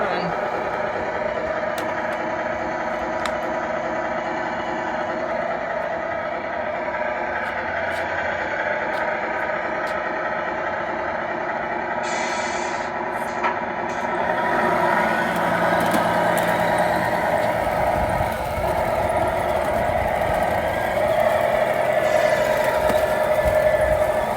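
A Tamiya RC flatbed truck hauling a strapped-down load of pallets runs on a test drive, its electric drive giving a steady mechanical whine that grows slightly louder toward the end, with some background noise.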